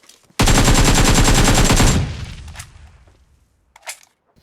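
Rapid automatic gunfire in a battle royale shooter, a loud sustained burst of about a second and a half, then fading echoes and a brief faint shot near the end.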